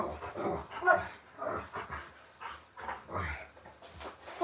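Dog whimpering and making short whiny barks while begging for snacks, repeated uneven vocal bursts close to the microphone, fairly quiet.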